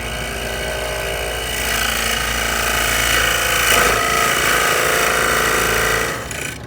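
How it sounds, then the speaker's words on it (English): A power drill or jigsaw cuts through wood for a cake stand handhold, a loud, steady whining buzz close by that swells slightly midway before winding down at the end. "So we'll drill a hole on each end and then we'll connect those with the jigsaw."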